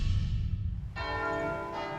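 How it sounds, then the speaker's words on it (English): Church bells ringing at the church in Sainte-Mère-Église, Normandy, loud strikes with a long metallic hum, coming in after a low rumble and sounding again near the end. "those bells are ringing at the Church of Notre Dame"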